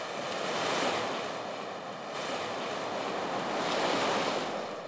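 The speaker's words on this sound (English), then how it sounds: "the wind's turning, the ocean, it's agitated" Agitated ocean waves surge and wash while wind blows hard, the roar swelling and easing in broad waves with no voices over it.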